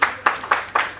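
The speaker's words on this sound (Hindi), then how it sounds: "प्लीज़ जोरदार तालियों से स्वागत कीजिए" A brief burst of audience clapping welcomes a speaker at a Hindi-language business gathering on agriculture and import-export, heard as a few rapid, evenly spaced claps at moderate volume with no talk over them.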